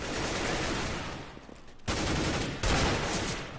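Desert Eagle pistol shots in a shooter game arrive as two sharp, loud reports over a dense, steady wash of continuous background gunfire and game noise, with no talking.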